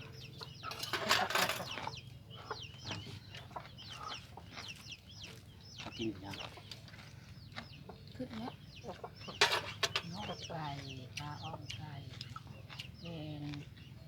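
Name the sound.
chickens clucking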